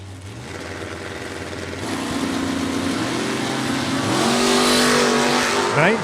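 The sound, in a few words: split window Corvette drag racing down the lane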